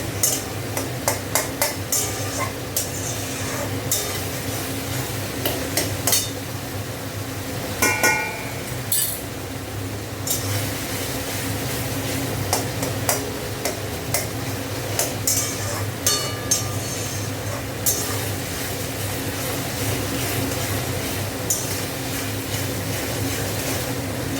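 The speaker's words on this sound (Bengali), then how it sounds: "ভালো করে কষে নিচ্ছি টমেটো দিয়ে। আর টমেটোগুলো পুরো গালিয়ে দিয়েছি।" Tomatoes for a fish curry fry in a pan under constant stirring, a steady sizzle broken by repeated scraping and clinking of the spoon against the metal, close and busy throughout.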